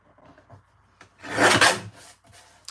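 Rough rasping as the edge of a paper panel is torn into a deckled edge, a loud scraping burst lasting about a second, with softer faint rustles of handling before and after.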